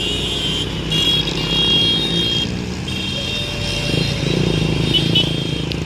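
Road traffic idles and creeps in a jam at a red light at Simpang Jambi, with a steady low engine rumble from cars, trucks and motorcycles. Higher whining tones and faint beeps sit on top of the rumble, which stays loud and constant throughout.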